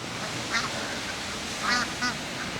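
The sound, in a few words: bar-headed geese at duck pond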